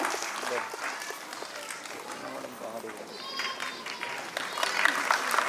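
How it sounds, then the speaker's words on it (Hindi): Applause from a felicitation ceremony audience in Chandigarh, moderate and continuous under an announcer's voice reading out names. "तालियां बजती रहे"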